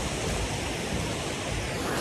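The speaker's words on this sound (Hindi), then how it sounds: "पानी का फ्लो देख लो" Fast-flowing river water near a village footbridge outside Manali, where clothes are washed, rushing as a loud, constant broadband roar with no pauses and nothing else heard over it.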